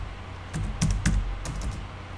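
Someone types a file name on a computer keyboard, giving a handful of quick, light key clicks over quiet background hiss.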